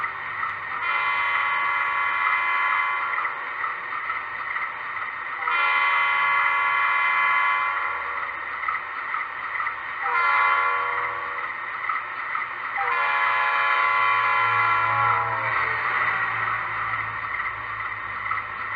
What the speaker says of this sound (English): Let's hear what the Doppler horn sounds like on the B36-7.